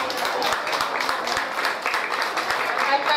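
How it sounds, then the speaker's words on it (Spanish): Loud applause from a crowd at a town patron-saint festival in Uluazapa, brisk overlapping clapping with sharp individual claps standing out, continuing throughout with some voices underneath. "Fuerte el aplauso."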